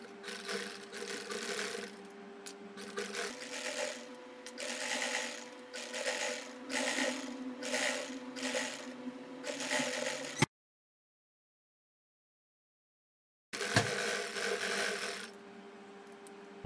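A sewing machine stitches a marked fabric strip on a lace-trimmed slit design. The close, steady mechanical whir pulses slightly, drops to full silence for about three seconds, then resumes.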